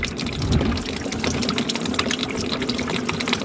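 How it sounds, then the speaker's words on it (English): Coolant gushes and splashes out of a 2.5-litre five-cylinder VW T5 engine as the water pump is pulled, a loud, continuous close-up rush of liquid pouring and spattering throughout. "Oh, we're going everywhere. Oh, we're leaking everywhere."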